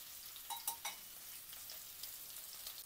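Chopped onions fry in hot oil in a pan, giving a soft, steady sizzle with a few small pops and crackles near the start.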